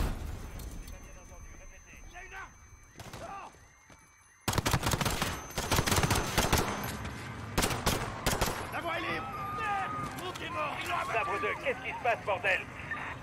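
Gunfire in the video game Modern Warfare, bursts of shots and rapid automatic fire cracking loudly over shouting voices and a rumbling background, with scattered single shots before a dense volley.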